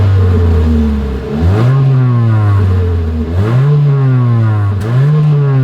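A 2025 Mitsubishi Eclipse Cross compact SUV engine revs through its exhaust, three strong blips rising and falling over a steady low idle drone, loud and close.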